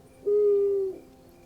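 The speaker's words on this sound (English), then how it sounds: "I did hoot a barn owl call" A single sustained barn owl hoot sound effect, one clear tone lasting under a second, loud and close against near silence.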